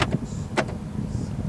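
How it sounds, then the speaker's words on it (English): Two quick mechanical clunks about half a second apart as power door locks actuate, close by in a quiet 2012 Ford Focus SE interior. "Up here is your power door lock switch."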